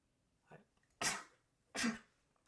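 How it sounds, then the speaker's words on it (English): Two sharp sneeze-like bursts a moment apart, preceded by a soft intake of breath, close and fairly loud in an otherwise quiet room. "I have to sneeze."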